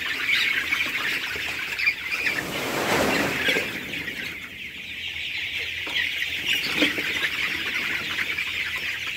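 A crowd of Tiger chickens on a poultry farm clucks and chatters continuously, a dense, busy flock filling the space with no talking.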